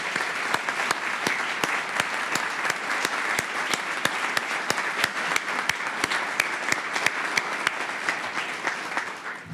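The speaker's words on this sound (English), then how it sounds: "One more round of applause for all of our laureates" Sustained audience applause at a convocation honouring laureates, a steady, even wash of many hands clapping with a few louder claps close by, holding at the same level throughout.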